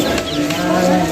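A buffalo lows once in a long, close, droning moo with a harmonic tone, loud and alone, on a rural farmstead in Gujarat.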